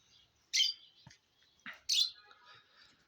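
Pigeons on a rooftop, giving a few sharp, bright chirps and squeaky calls in short bursts over near silence, close and fairly faint.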